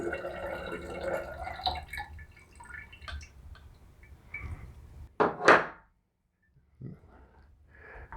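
Fresh lemon juice is poured through a strainer into a one-gallon carboy for lemon mead, producing soft dripping and splashing liquid sounds with a brief, louder gush near the end, followed by quiet.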